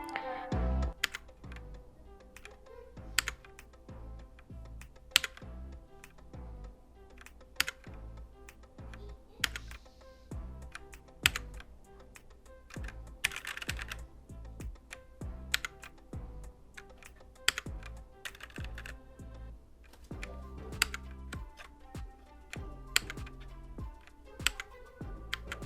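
Rapid clicky keystrokes on a Red Thunder K55 mechanical gaming keyboard, irregular bursts of sharp taps close to the microphone with brief pauses between runs, continuing steadily throughout.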